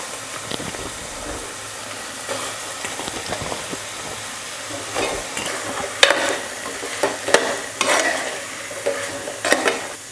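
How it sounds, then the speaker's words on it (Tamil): Sliced chow chow fries in hot oil for sambar, a steady close sizzle with scraping stirs and occasional sharper clatters of a spoon against the pan, no voices. "ஒரு நிமிஷம் காய் எண்ணெயில் நல்லா வதக்கிக்கலாம்."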